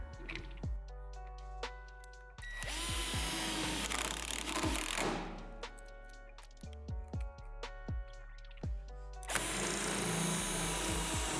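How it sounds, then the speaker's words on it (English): Self-tapping screws driven by a power drill through a frame pad into the metal backboard of a Lifetime 54-inch portable basketball system, with several whirring drill bursts, a metallic rattle and sharp clicks between them. "Place the center frame pad on the bottom of the backboard and secure with the self-tapping screws."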